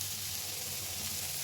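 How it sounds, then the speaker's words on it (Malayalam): Carrots and beans sautéing in a pan for semiya upma give off a steady, even sizzle of frying with no breaks, fairly soft and heard alone. "അപ്പോൾ ഇതെല്ലാം കൂടെ നമ്മൾ നന്നായിട്ടൊന്ന് വഴറ്റണം"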